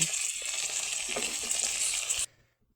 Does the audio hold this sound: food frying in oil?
yes